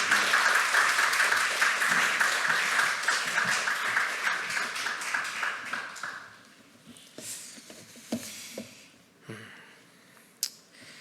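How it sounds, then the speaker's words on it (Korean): Church congregation applauding to welcome a missionary from Fiji at a Sunday worship service, a loud sustained clapping that fades after about six seconds into a few scattered claps and soft rustling. "우리 박수로 선교사님 맞이하겠습니다."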